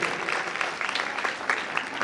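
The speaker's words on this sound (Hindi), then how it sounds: "ताली तो बजाओ घर की बेटियों के लिए।" An audience claps at a Jain religious ceremony, a dense, steady burst of applause from many hands, fairly close and continuous throughout.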